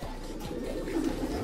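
Pigeons coo softly in a loft, a brief low murmuring call over faint background noise with no talking.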